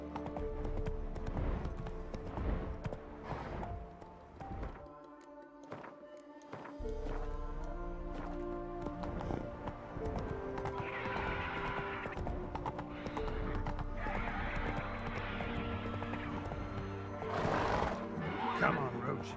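Roach the horse in The Witcher 3 clip-clops steadily along with loud hooves and lets out repeated neighs and whinnies, all over a game music score with someone talking at times.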